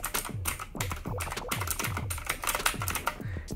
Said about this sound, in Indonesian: keyboard ini berisik banget. Dan ya dia blue switch